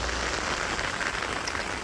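A short stretch of soft, steady rain patter in a village during the monsoon month of Asharh, fairly quiet and even, with no talking.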